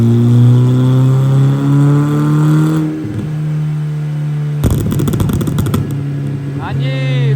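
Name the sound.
tuned car exhaust pops and bangs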